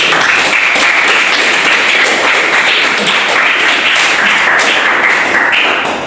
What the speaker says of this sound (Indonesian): Tepuk tangan buat Mas